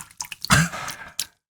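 Nearly a full bottle of whiskey is poured from a glass back into the bottle, giving a brief, quiet splash and trickle of liquid with a few small drips.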